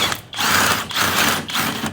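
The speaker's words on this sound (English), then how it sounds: "I'm going to use an impact wrench and break that loose" Impact wrench breaking loose a control arm bolt on a Ram ProMaster City, three loud sustained rattling bursts separated by short pauses, close and alone.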